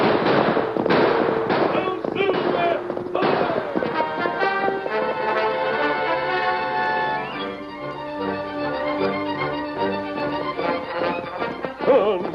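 Gunshots in an old-time radio drama, sharp pops and bangs scattered through a busy scene over music and excited shouting voices.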